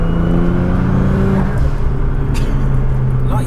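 A 1000 bhp Nissan GT-R engine drones steadily nearby with a low exhaust rumble and faint whir, continuous and fairly loud without much revving.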